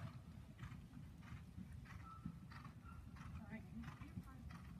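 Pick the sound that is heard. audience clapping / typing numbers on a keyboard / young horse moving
young horse moving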